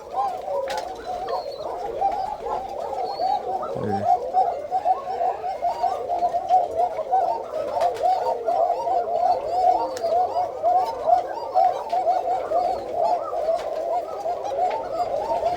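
A flock of white Koka pigeons coos without pause, a dense, rolling murmur of overlapping calls from nearby birds, broken only by a brief low knock.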